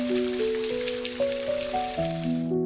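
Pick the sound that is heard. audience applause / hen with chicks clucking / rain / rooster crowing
rain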